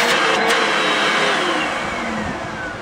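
A Hoover canister vacuum cleaner with very little suction runs loud and close, a steady high-pitched motor whine and airflow rush that eases slightly toward the end, with no one talking.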